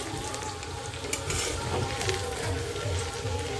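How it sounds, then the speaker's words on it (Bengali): Onion fritters (peyaji) frying in hot oil, a steady close sizzle and crackle running the whole time with faint background noise. "এই যে পেঁয়াজি ভাজা হচ্ছে"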